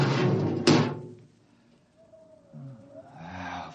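A spaceship airlock opening in a radio drama, a sharp mechanical clank followed by a low whirring hiss and a rising rush, heard alone between voices.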